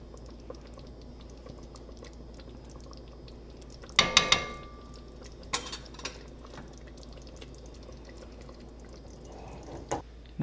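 Goulash is spooned from the pot into a dish, with a sharp clatter of utensil on cookware followed by a few softer scrapes and taps, close and otherwise quiet.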